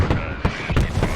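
Mortar explosions in the video game Squad, in a desert battle with US mechanized troops: four muffled booming blasts land in quick succession, fairly loud and with no talk over them.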